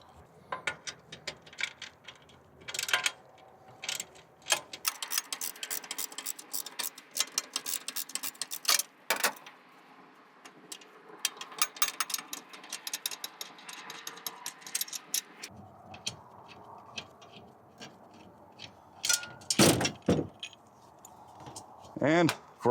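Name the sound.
removing pressure washer pump bolt with wrench and socket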